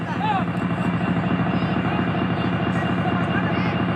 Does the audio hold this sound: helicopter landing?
yes